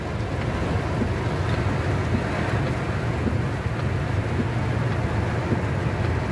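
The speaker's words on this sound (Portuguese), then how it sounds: "Muita água mesmo." Heavy storm runoff surging strongly in Canindé de São Francisco, Brazil, heard as an unbroken, loud, close roar with no pauses and no speech.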